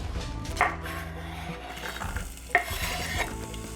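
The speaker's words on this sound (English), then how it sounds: "Ooh, that sizzle though." Onions sizzle and crackle steadily in a hot pan, with a couple of sharp scraping stirs and clinks of a utensil against the pan.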